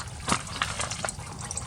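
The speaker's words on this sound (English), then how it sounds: "I hear dripping." Fluid dripping beneath a 2002 Ford F250 Powerstroke diesel truck that sat unused for two years, with diesel leaking from the transmission inspection plate; a few distinct close drips fall over a soft liquid trickle.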